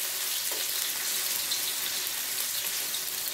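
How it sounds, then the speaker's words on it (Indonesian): Thinly sliced shallots fry in hot oil with a steady, dense sizzle and crackle that fills the whole clip, close and loud, with no voices over it. "Oke, kita goreng. Bawang goreng, bawang merah ini sampai naik wangi ya."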